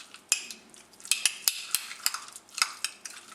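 Whisking hazelnut oil and lime vinaigrette in a bowl, with light, scattered clinks and taps of a utensil against the side in an uneven rhythm, close and fairly quiet.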